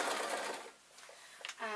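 A sewing machine joining a 1.5-inch strip of fabric, heard as a short, close mechanical whir that stops and then briefly restarts, all within a couple of seconds.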